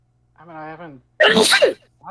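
A single loud, sharp sneeze bursts out mid-conversation, preceded by a short spoken phrase and followed by more casual talk among people at a tabletop game session.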